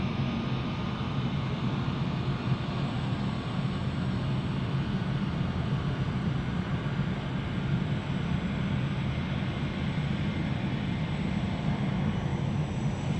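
Boeing 757 Classic aircraft at a busy cargo airport, a steady broadband engine roar holding loud and even throughout, with no voices.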